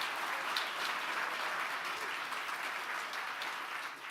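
A crowd applauds a newly announced Tulane head football coach, dense continuous clapping at an even level throughout, tapering slightly at the very end, with no talking.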